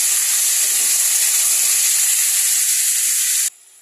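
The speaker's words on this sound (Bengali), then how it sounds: "এই মশলাটা আমি দিয়ে দিচ্ছি, ভালো করে কষি নেব।" A spice mix of salt, turmeric, coriander, cumin and chilli powders frying with cauliflower in a pan, a loud, steady hissing sizzle that cuts off abruptly near the end.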